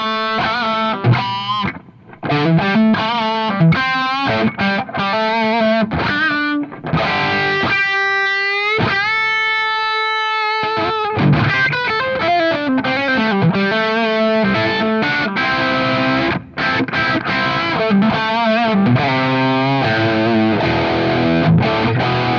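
A camo bullseye Les Paul electric guitar played through heavy distortion rings out in sustained chords and bending notes, with several brief pauses between phrases and a held, singing tone in the middle.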